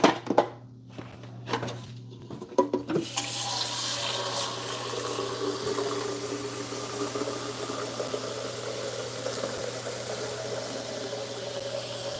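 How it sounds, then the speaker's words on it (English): A few clicks and handling knocks, then tap water runs in a steady continuous stream into the reservoir of a new Keurig K-Express coffee maker, close by and unbroken to the end. "Let's fill it up with water first."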